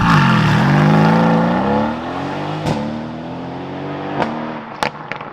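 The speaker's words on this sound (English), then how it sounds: "Here's some footage of me launching the GTS." A Mercedes-AMG GTS launching with hard acceleration, the engine note climbing steadily and loud through the run with sharp gear-change cracks toward the end.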